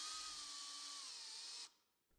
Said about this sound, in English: I still needed to drill pilot holes for the leg screws to the bottom of the stand